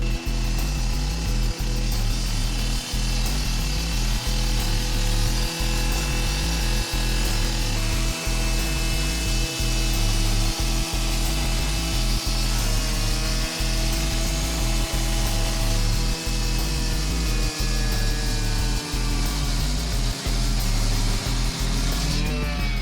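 A power saw wet-cutting a concrete slab with a water hose attached grinds steadily for over twenty seconds, a loud continuous cutting drone with a faint rhythmic pulse underneath.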